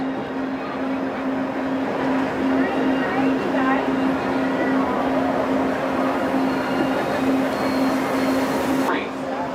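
Disneyland monorail ride heard from inside the car, a steady rumbling hum with a constant motor drone and faint rattles throughout, ending with a brief squeal near the end.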